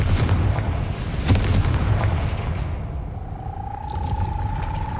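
A Confringo fire spell goes off in the Hogwarts Legacy video game, a heavy booming blast near the start that rolls off into a low rumbling tail, followed by a faint rising tone.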